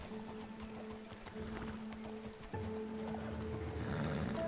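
Hooves of a ridden horse in Red Dead Redemption 2 give a soft, steady clip-clop at a distance, faint under quiet tonal game sounds, growing slightly louder toward the end.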